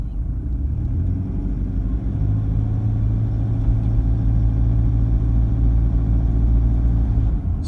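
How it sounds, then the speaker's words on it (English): A diesel engine that has just been remapped and fitted with new injectors idles as it warms up, a loud, steady low rumble with an even throb and no voices. "As it warms up, it's going to quieten down, right? That's what's going to happen with a diesel engine."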